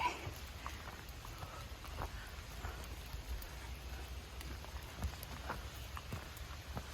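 Steady light rain patters through a quiet early morning hike, a faint even hiss with occasional soft drops and no voices.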